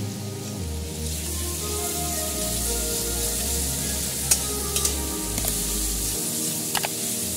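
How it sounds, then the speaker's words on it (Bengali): Ginger garlic paste going into a pan where an egg omelette is frying, with a steady loud sizzle and a few small sharp crackles and spatters over the bubbling. "এবার আমি এর মধ্যে 1/2 চামচ আদা রসুন পেস্ট দিচ্ছি"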